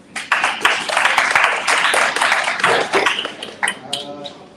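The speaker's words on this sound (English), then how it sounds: "Huge round of applause, please." An audience at a debate competition hall claps in a dense, loud round of applause that thins out toward the end, with a voice briefly heard.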